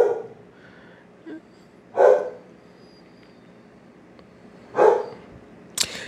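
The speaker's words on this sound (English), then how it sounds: "Sorry for my dog, by the way." A pet dog barks indoors in two or three sharp, separate yelps spaced a few seconds apart, sitting fairly close against a quiet room.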